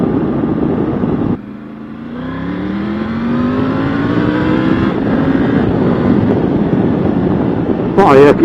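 A Triumph Tiger 900 Rally Pro motorcycle engine accelerates on a test ride, its pitch climbing steadily after a brief gear change, loud and close with wind buffeting over the rising drone.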